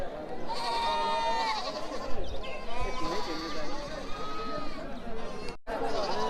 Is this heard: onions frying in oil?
no